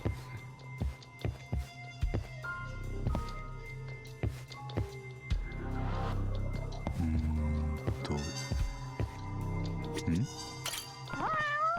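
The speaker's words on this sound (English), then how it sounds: "I hear a cat." A cat meows a few times in the video game Judgment. The calls are short and scattered among game sounds and footsteps, and a person talks during parts of it.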